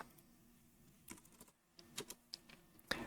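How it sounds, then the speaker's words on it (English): Keys pressed on a computer keyboard during video editing, backspace included: sparse, close, quiet clicks in an irregular rhythm, with a sharper tap near the end, over a faint hum. "I can just press backspace on my keyboard"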